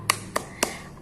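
Three hand claps in a slow, even rhythm, the first and last a little louder, close and crisp with no talking, clapped along to an Al-Fatihah classroom chant.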